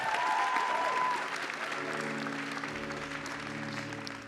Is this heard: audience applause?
yes